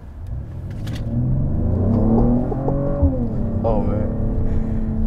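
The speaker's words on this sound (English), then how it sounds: "that 3-liter inline six put a smile on my face, and then it sounds good too. It's not even with the sport exhaust." A 2021 Mercedes-AMG GLE 53 Coupe with a 3-liter inline-six, without the sport exhaust, accelerates hard. Its engine note climbs in a smooth, rising rev that settles and swells again, close and loud, while someone speaks briefly over it.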